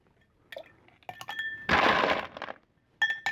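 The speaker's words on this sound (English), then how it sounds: "Now we can add the ice." A large ice cube dropped into a chilled cocktail glass, a few bright clinks followed by a short rattling slide and a final crisp clink, close and clear.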